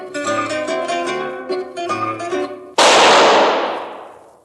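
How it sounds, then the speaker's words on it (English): A single loud gunshot cracks right after a stretch of zither music in a radio drama, a sharp close blast that rings out and decays over about a second and a half. "That was the shot that killed Harry Lime."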